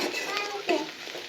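Onions frying in oil for a tempering being poured into a potato curry pan, a bright steady sizzle with a few clinks and stirring sounds close by.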